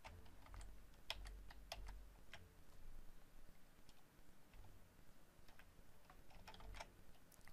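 Soft, quiet clicking of a computer keyboard during animation editing work, with irregular key taps and brief bursts spread across a hushed room.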